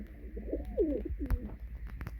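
A female pigeon coos close by near a loft with young birds, a soft rolling coo lasting about a second over a low background hum.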